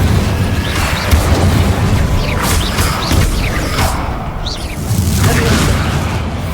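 Fire spell cast in Hogwarts Legacy, a loud burst of flame with crackling whooshes amid continuous combat noise and other spell effects, several bursts over a few seconds.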